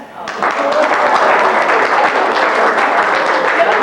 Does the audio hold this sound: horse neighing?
no